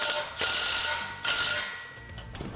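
A ratchet tightening exhaust clamps during a catback exhaust and downpipe install on a 2020-or-later Ford Explorer ST, two quick clicking ratchet runs close by, then a quieter third stroke.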